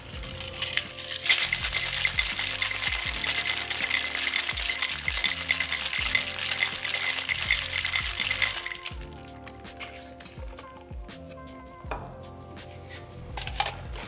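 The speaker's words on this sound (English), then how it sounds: "I'm going to add ice and give that a little shake." Ice rattles inside a cocktail shaker as a mint iced coffee is shaken, a steady rhythmic clatter of cubes for several seconds that eases into scattered clinks and taps near the end.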